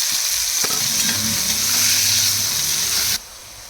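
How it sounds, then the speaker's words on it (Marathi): Finely chopped onions, two of them, tipped into hot oil with cumin and frying with a steady loud sizzle, with stirring noises throughout before the sound cuts off near the end. "जिरे थोडेसे तळल्यानंतर त्याच्यात मी हे 2 कांदे चिरून घेतले होते, बारीक करून घेतले होते कांदे, ते कांदे टाकून घेणार आहे"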